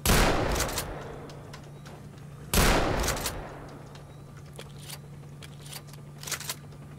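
Two loud, close shotgun blasts in STALKER: Shadow of Chernobyl, each with a long echoing tail, followed by faint scattered distant shots and a steady low hum.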